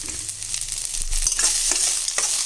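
Curry leaves and coriander sautéing in a pan for a cowpea and brinjal kulambu, with a steady close sizzle and spoon-stirring scrapes throughout.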